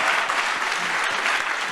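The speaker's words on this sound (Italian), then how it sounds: "Ragazzi, un applauso a..." Sustained applause from a crowd of students fills the space, an even patter of many hands clapping at moderate loudness with no talk over it.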